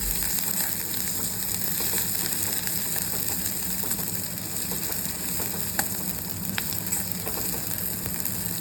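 Onion and salt sautéing in oil in a pan for poha, a constant close sizzle with faint scraping and ticking of stirring throughout.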